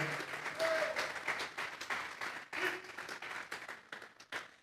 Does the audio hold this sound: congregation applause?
yes